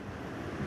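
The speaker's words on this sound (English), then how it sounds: "the wind tonight is really slicing through you tonight" Strong nor'easter wind roaring on the coast at Chatham, Massachusetts, gusting over 30 miles an hour, a continuous loud broadband rush buffeting close to the microphone for under a second.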